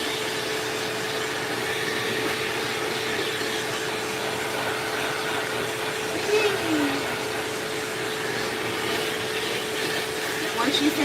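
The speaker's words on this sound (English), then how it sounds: "layer in the sound of the Feline dryer without using any utensil" A pet grooming dryer blowing on a Maine Coon cat drones with a constant hum, a steady whoosh, loud and unbroken, with a voice speaking briefly over it.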